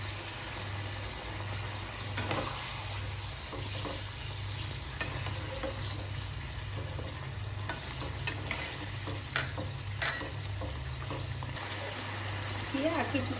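Beaten white yogurt stirred into simmering chicken rezala, a continuous low bubbling and sizzle with a steady hum underneath and scattered soft scraping clicks of stirring throughout.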